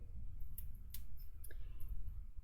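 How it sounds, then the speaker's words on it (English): Tim Holtz coated craft scissors snip through red tape while making a mini album, a few faint crisp clicks spaced apart over a low room hum. "I'm just switching to my Tim Holtz scissors as well."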